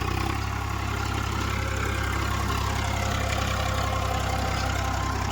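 A farm tractor runs in a harvested wheat field, its engine holding a steady, low, throbbing idle-like drone throughout, close and continuous with no speech.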